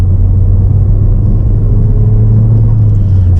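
A Ford Fiesta ST on the move, its engine and road noise a steady, loud low rumble that carries evenly through the whole stretch, with no voices heard.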